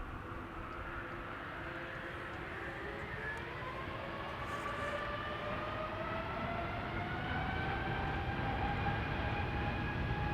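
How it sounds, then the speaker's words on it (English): A Delta Airlines Airbus A330neo departing Amsterdam Schiphol for New York JFK, its distant jet roar rising slowly and steadily with drifting engine tones across the whole stretch, no voices. "We're starting off with Delta Airlines Flight 49, which is an A330neo. It's leaving for New York, JFK."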